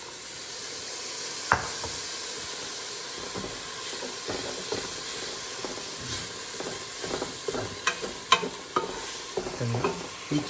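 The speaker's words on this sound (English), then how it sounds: "And each time I add and stir, I just wait until it's all soaked up." Seafood chowder being stirred in a pot, a soft bubbling hiss under repeated spoon scrapes and light clinks against the pot, close and moderately quiet.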